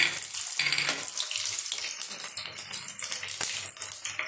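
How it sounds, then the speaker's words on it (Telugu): Crushed garlic dropped into hot oil in a home kitchen pan, giving a loud, steady crackling sizzle with a bright spatter burst near the start, close up with no talking. "ఆయిల్ వేడైందండి. మనం దంచి పెట్టుకున్న వెల్లుల్లిపాయ వేస్తున్నాము."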